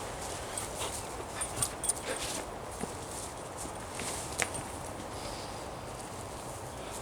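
A dog out on a walk in local woods, with soft paw-steps and rustling on the woodland floor, a few small snuffles and light footfalls, heard close and quietly against a still background.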